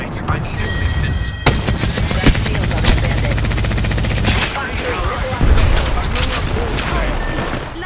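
Dense bursts of automatic gunfire and sharp single shots from the Apex Legends battle royale game, loud and continuous with rapid rattling volleys, a few heavier impacts and a voice speaking over the action.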